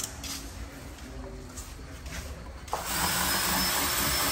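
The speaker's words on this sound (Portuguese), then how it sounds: "tá furando demais, pô." A power drill bores holes in wood. After a few seconds of quieter handling noise, a steady, loud whirring whine kicks in abruptly and runs to the end.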